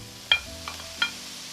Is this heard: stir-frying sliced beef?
yes